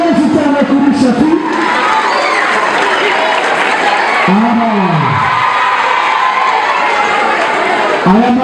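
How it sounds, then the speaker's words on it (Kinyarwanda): A crowd at a Rwandan comedy event applauds and cheers for a film actor, a dense, steady wash of clapping and shouts that runs through the whole stretch while an MC's voice calls out over it. "Amashyi menshi cyane kuri Shafi."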